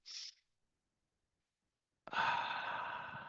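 A person takes a deep calming breath: a brief soft intake at the start, a pause of silence, then a long, fairly loud exhale that trails off slowly.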